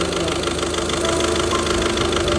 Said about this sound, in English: Yes, running, but there is head gasket problem, big problem.